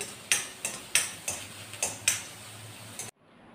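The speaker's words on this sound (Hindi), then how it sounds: "अभी सोयाबीन को मैं भून रही हूँ" Soybeans roast in a kadhai with sharp scraping and clattering ticks as they are stirred, about seven quick strikes in a loose rhythm over faint sizzling, ending abruptly; no one speaks.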